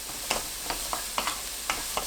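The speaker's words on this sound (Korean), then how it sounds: "바로 양파 넣고 1분 볶아주세요" Onion being stir-fried in a pan with cooking oil and minced garlic over medium heat: a steady sizzle with rhythmic scraping stirs recurring about every half second, close and without voices.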